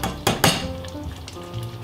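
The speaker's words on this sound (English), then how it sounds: "let it simmer on medium heat again for about 10 minutes. just keep stirring" Beef rendang simmering over medium heat in a pan as it is stirred: a couple of quick scraping strokes near the start, then a soft bubbling sizzle with faint clinks, close by.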